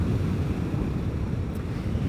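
Wind rushing over the microphone during a Vespa GTS scooter ride, a loud, steady low roar that continues throughout with no talking.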